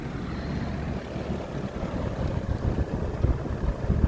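A vintage Sears 20-inch whole house fan running on medium speed and drawing air inward, giving a steady, close, even rushing whoosh with a low rumble that never lets up.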